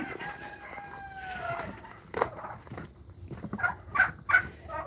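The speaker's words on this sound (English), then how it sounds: "But that rooster is headed for the freezer also." Rooster on a small livestock farm crowing, a drawn-out nearby call at the start, followed by scattered clucks and short squawks from other fowl.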